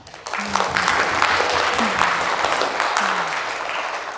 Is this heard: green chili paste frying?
no